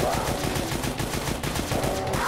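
Rapid automatic gunfire from an overpowered weapon in The Golden Souls, a retro first-person shooter, played on hard difficulty in the Creepy Chateau level. The shots rattle off in a loud, dense, continuous burst for the whole stretch.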